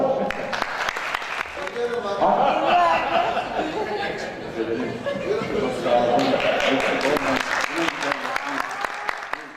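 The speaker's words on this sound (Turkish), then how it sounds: "Alkışlarla." A studio audience at a Turkish television word-game show applauds as a female contestant is welcomed, steady clapping with chatter and light laughter mixed through.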